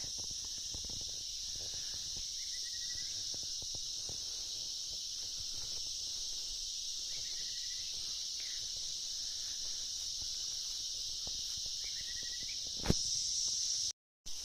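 Crickets in the forest of Silent Valley, a constant high, shrill chirring drone at a fairly quiet level, with faint rustles and footsteps beneath and a brief dropout near the end; no speech.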